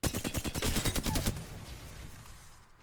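Flatline rifle firing full auto in Apex Legends, a rapid even burst of about a dozen close, loud shots lasting just over a second, then a fading reverberant tail.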